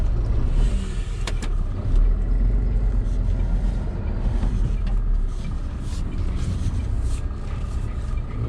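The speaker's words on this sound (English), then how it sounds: "So I'll just reverse down there" A class 2 HGV bakery delivery truck reverses slowly, its diesel engine a steady close low rumble with brief knocks and clatter throughout.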